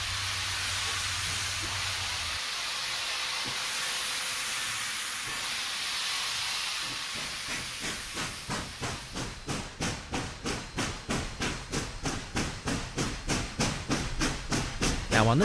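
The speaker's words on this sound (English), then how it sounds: "you only see this spectacle of steam coming out of the engine when it first makes its run" Steam hisses loudly from a large American steam locomotive on its first morning run, then gives way to rhythmic chuffing exhaust beats that quicken and grow stronger as the engine starts moving.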